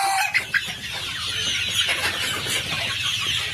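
Desi chickens raised in an open farm setting cluck and chatter repeatedly nearby, a busy overlapping flock sound with occasional louder squawks and no speech.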